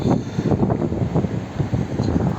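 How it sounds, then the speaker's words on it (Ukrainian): Petrol engine of a 2007 VW Touran 1.6 MPI (BSE) idling, a steady low rumble with pulsing texture, close and continuous, with no talk over it. "Ще заведемо, працює двигун."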